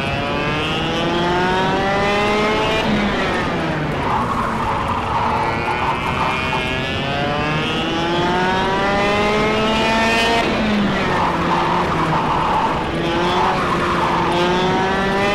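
Kart engines race in the KartKraft video game, a steady loud buzzing whine that rises and falls in pitch as the kart accelerates and brakes through corners, continuous throughout with no talk.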